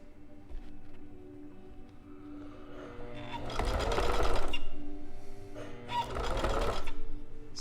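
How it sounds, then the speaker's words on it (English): Sewing machine stitching a seam, its motor whirring steadily and close by, rising in two louder bursts as it runs back and forth over the stitches. "when we get to that seam, pull out the pin and go back and forth just a little bit, just to make sure we secure that seam"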